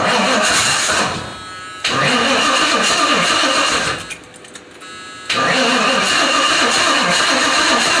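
A 1978 Ford Granada engine cranking and starting up close, loud mechanical churning with two brief dips in level before settling into a steady running rumble.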